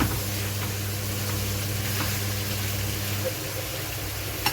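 Whole peppercorns, cloves and a cinnamon stick toast in a pot for chicken mandi, giving a soft, even sizzle over a constant low hum, with faint stirring scrapes now and then.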